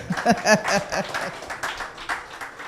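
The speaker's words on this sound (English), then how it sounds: "Give me a round of applause on that." Applause at a 50th anniversary media launch event, a short spell of clapping from an audience with a rapid patter of hands at moderate loudness, fading out after a couple of seconds.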